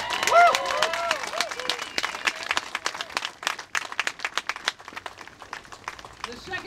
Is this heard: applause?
yes